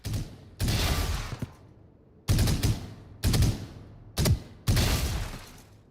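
Phantom rifle firing in Valorant, heard as four separate bursts of rapid automatic shots, loud and close, with short quiet gaps between bursts and no talking.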